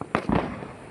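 A firecracker bursts outdoors with two sharp, loud bangs in quick succession, close by and followed by a brief crackling tail.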